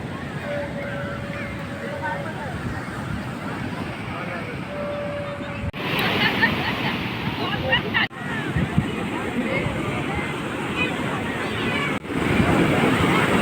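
Steady surf rolls in at a busy morning beach at Puri, a continuous wash of breaking waves and wind with occasional gusts hitting the microphone, while a voice talks over the scene.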